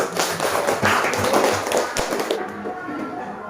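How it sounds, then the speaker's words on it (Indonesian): A class applauds groups who have just presented: close, brisk clapping from many students that builds quickly, stays dense, then fades away after a couple of seconds. "Berikan tepuk tangan untuk kelompok yang sudah tampil"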